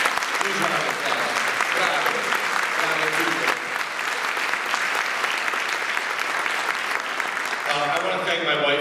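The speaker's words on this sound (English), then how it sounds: "So could you give them a big round of applause? Please round of applause." Sustained audience applause at a welcome home concert, dense steady clapping filling the room throughout, with a few voices and cheers mixed in near the end.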